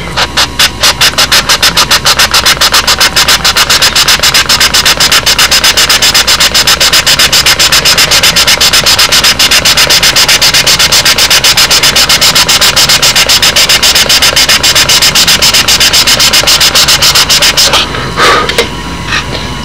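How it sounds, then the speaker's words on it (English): Hinge pocket tool for IM hinges cutting a pocket during vertical stabilizer fabrication on a 2004 Windy, a loud, steady rapid buzzing rasp running nearly twenty seconds before stopping abruptly near the end. "we got our little hinge pocket tool for the IM hinges"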